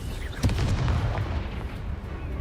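Confringo and Incendio spell blasts in the Hogwarts Legacy video game, heard as a rapid string of heavy booming bursts and crackling impacts over a dense rumbling battle background.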